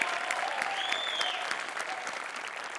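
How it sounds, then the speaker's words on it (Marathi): Loud, dense applause from a studio audience on a Marathi comedy show, steady clapping throughout with a faint tonal whistle or music line above it. "एकदा जोरदार टाळ्या वाजवून त्यांचं अभिनंदन करूया"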